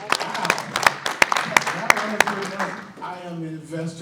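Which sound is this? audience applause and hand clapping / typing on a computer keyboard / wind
audience applause and hand clapping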